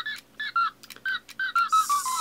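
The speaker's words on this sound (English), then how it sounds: "This turns into a whistle." A series of short, high-pitched whistle blasts in a stop-start rhythm, close and fairly loud, ending in a longer run of quick, falling notes.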